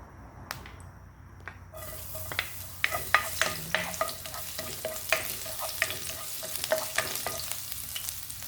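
Corned beef frying in hot oil in a pan, a sizzle that swells after a quieter opening, with crisp popping crackles and spatula scrapes at close range, no talk.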